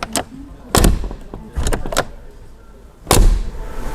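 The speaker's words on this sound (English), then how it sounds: "Now just listen to how nice the door sounds." A Mercedes G-Class door with a solid metal body slams shut several times, each close a loud, sharp broadband thud close by, spaced a second or so apart with quieter handling clatter between.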